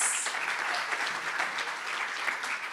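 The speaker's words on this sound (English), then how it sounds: "Let's give our IT team a round of applause." Audience applause for an IT team at a Black History Month gathering, a dense, even wash of many hands clapping at moderate level for a few seconds.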